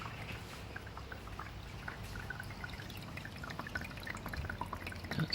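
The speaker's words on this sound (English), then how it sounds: "Sounds like it's filling up the top at the moment." A small water pump fills the tank of a Back to the Roots water garden, giving a steady faint trickle and splash with scattered light drips, heard alone and close.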